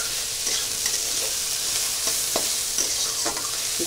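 Onions, ginger and spices fry for a Bengali egg curry, a soft continuous sizzle in the pan broken by several sharp scrapes and taps as the mixture is stirred, with nobody talking.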